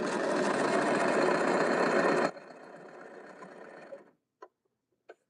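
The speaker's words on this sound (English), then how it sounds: "Let's test strip. Overlock stitch." Sewing machine running an overlock stitch on a test strip: a loud, fast, even mechanical whir for about two seconds, then a quieter slowing run that stops, followed by two short clicks.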